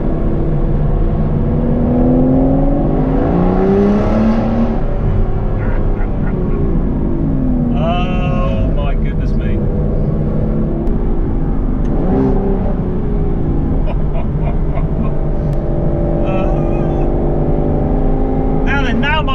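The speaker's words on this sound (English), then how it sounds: "this raucous Aston Martin V12" An Aston Martin GT12 with a V12 engine accelerates hard on a road near a roundabout, its raucous exhaust note rising through the gears with rising and falling revs, loud and close from the cabin.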